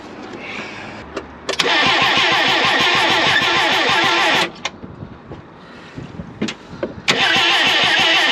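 The engine of a K20 turbo K10 Micra drag car cranks over loudly and close in two long bursts of fast whirring starter churn, split by a short quiet pause with faint clicks, without catching.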